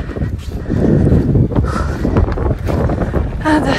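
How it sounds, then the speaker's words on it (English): Wind gusts across the microphone on a rocky arctic fell hike at Saana in Lapland, a loud, rough rumble that rises and falls over the whole clip. "And there's wind, which is so nice, it's so hot."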